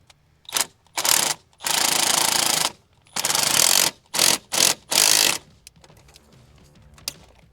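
Ratchet with an extension tightening a charge pipe clamp during a charge pipe and intercooler install on an FL5 Civic Type R: close, rapid ratcheting bursts, several long runs then short quick strokes, with no talking.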